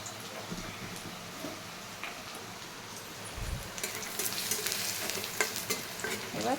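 Crushed garlic frying in a pan over a lowered gas flame, a soft sizzle that grows louder and crackly partway through, with faint stirring.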